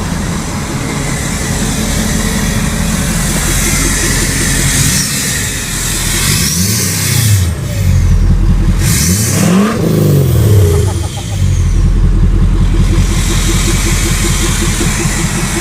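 A 1000cc superbike's exhaust roars continuously on a dyno, its pitch sweeping up and down through several hard revs before settling back to a heavy drone.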